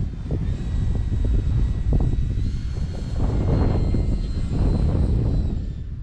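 An E-flite Timber Turbo Evolution RC model plane buzzes past in a strong crosswind, its electric motor whine rising and falling as it flies low, with wind rumbling across the microphone throughout.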